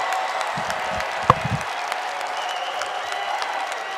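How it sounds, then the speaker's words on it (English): An arena crowd applauds after a grappling match victory at a RAF event, steady clapping with a brief louder burst near the start and a soft cheer underneath. "The crowd is excited."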